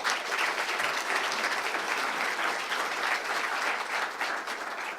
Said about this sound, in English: a round of applause for all of the speakers here this morning